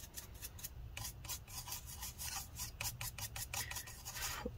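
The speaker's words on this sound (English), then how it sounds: "Kind of brush that up, try and get the corrosion out if we can" A small brush scrubs corrosion off a connector inside a Lenovo Yoga 920-13IKB laptop. Quiet, close, rhythmic scratchy strokes repeat in quick succession with no talking.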